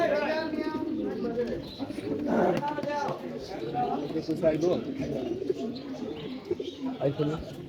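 Pigeons coo in soft, rolling bursts close by at a pigeon club in Mirpur, mixed with people talking over them throughout.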